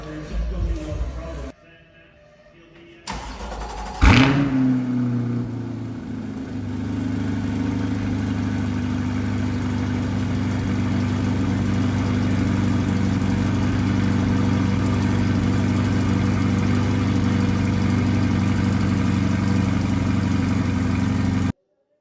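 A C8 Corvette's engine starts with a sharp bang and settles into a steady, loud idle as it warms up in a shop, holding a low, even rumble with no revving.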